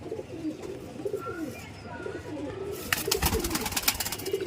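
Kasni Teddy pigeons coo and murmur in low, rolling calls, with a burst of broadband rustling or flapping partway through.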